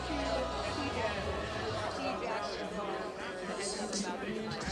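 Loud crowd chatter fills a Buffalo football stadium, a dense, steady babble of many voices close around the listener with a nearby voice talking over it.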